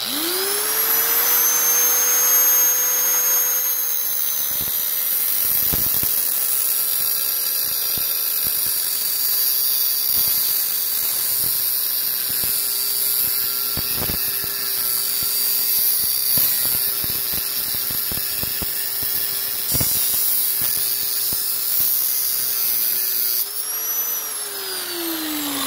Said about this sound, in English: Just take a nice grinder wheel here and just take your time going around.